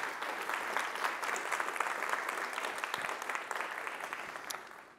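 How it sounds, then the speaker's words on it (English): An audience at the gRPC Conf tech conference keynote gives a brief round of applause, a soft, distant-sounding wash of many hands clapping that holds steady, then fades out at the end. "maybe a quick round of applause for putting together"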